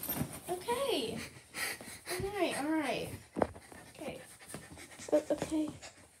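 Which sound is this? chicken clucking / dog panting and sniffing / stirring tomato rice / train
dog panting and sniffing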